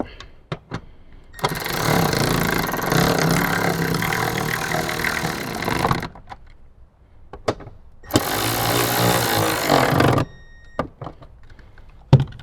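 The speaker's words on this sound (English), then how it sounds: "We can grab our 10mm socket and we'll go ahead and tighten these up." Bolts on a Toyota Tacoma amplifier and subwoofer install are tightened with a 10mm socket: two long, loud mechanical whirring bursts, separated and surrounded by sharp clicks and taps of tools.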